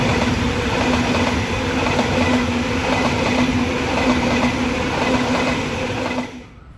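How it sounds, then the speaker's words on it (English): A Sydney Trains semi-fast passenger service from the Central Coast to Blacktown rolls through Petersham station, close and loud with rhythmic clickety-clack of wheels and a steady rumble before the sound drops away sharply at the end. "This one on the down semi-fast has come from the Central Coast and is going to terminate at Blacktown."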